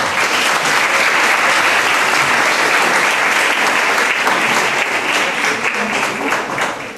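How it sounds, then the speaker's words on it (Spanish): Dense, steady audience applause fills a conference hall, loud and continuous for the whole stretch and tapering slightly near the end. "Un aplauso, por favor."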